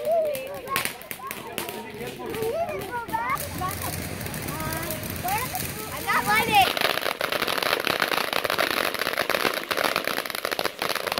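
Diwali fireworks and firecrackers going off outdoors at a New Jersey celebration, sharp cracks and popping bursts, sparse at first and then a loud dense crackling run, with a voice and other voices audible over them.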